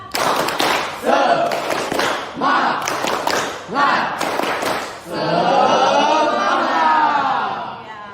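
A class of students claps together in a steady rhythmic pattern, several bursts of synchronized claps, followed by loud sustained group shouting.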